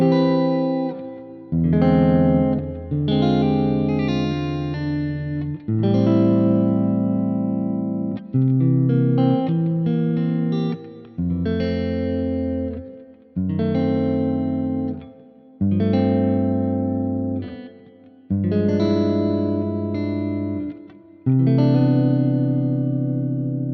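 Electric guitar with effects plays a lush neo-soul chord progression, sustained chords changing every few seconds with reverb and chorus shimmer, close and prominent with no talking.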